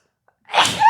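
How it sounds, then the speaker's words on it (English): One close, loud sneeze bursts out after a brief silence, sharp at onset and trailing into a breathy tail. "I'm going to sneeze."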